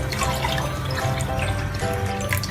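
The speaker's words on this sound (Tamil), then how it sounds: "இதால் இப்போ 2 டம்ளர் நம்ம தண்ணி ஊற்றுறோம்" Two tumblers of water poured into a pan for making wheat rava upma, a steady close splashing trickle running throughout.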